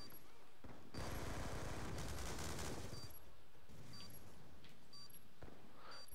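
Bursts of rapid gunfire in Call of Duty Black Ops 2 multiplayer, a dense loud volley in the first seconds followed by sparser shots and game interface blips.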